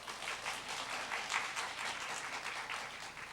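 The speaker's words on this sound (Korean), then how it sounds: "우리 박사님 나오실 때 큰 박수로 맞이해 주십시오." A church audience at a mothers' prayer meeting claps to welcome a guest doctor, a dense, even burst of applause from many hands, moderately distant and sustained throughout.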